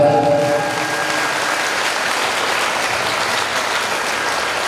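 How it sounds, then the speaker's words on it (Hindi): Audience applause welcoming a guest at a religious gathering at Naimisharanya pilgrimage site, a steady dense wash of clapping that holds evenly from start to finish. "हमारे भगवान विष्णु के लिए जोरदार तालियों से स्वागत"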